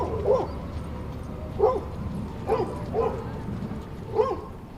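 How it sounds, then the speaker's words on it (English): Several dogs in a crowded city dog run at Washington Square Park, with mixed breeds such as doodles, pomskis, dachshunds and terriers, bark in short separate bursts about every second or so, moderately near over steady outdoor background noise. "from where I spoke with Hendrick and Bodhi, the Washington Square Park dog run was filled with dogs."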